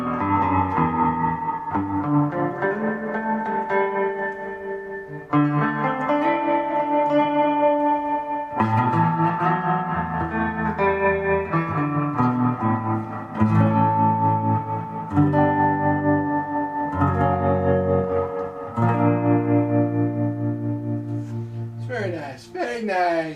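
An electric Jazzmaster-style guitar plays sustained chords and melodic notes through a Fender amplifier's reverb and tremolo, soaked in reverb with a pulsing wavering quality, loud and continuous.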